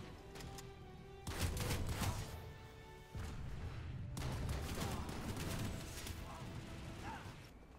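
TS4 Haymaker shotgun firing in Planetside 2, loud heavy blasts with mechanical clatter between shots, set against busy combat noise and a second burst of fire after a brief lull.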